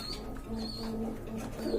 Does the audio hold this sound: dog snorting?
no